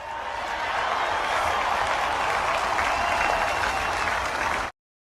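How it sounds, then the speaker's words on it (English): A vast outdoor crowd at the National Mall outside the Capitol applauds and roars at a presidential inauguration, a dense, steady wash of clapping and cheering heard from a distance that cuts off abruptly. "the applause and the roar of the crowd there at the National Mall outside the Capitol"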